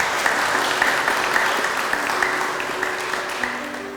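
Sustained applause from an audience at a university anniversary thanksgiving service, honouring long-serving staff; steady dense clapping throughout, fairly loud and continuous, with a faint background tone.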